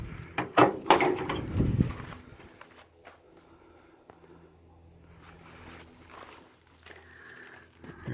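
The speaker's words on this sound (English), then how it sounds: "So, all the doors work, open and close." Doors of a 1964 Dodge D200 Power Wagon crew cab 4x4 opening and closing, a few loud close thumps and clunks early on, followed by quieter handling noises and faint background sounds.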